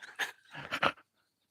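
Small puppy panting in quick breathy bursts, close to the microphone, a few rapid huffs and then silence.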